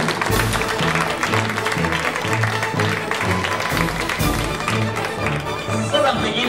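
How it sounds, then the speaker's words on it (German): Audience applause at a children's U8 and U9 football tournament award ceremony in Rotenturm, a steady, dense clapping that fills the whole stretch with crowd noise and a few louder claps standing out. "das ist vom Publikum ein Riesenapplaus wert"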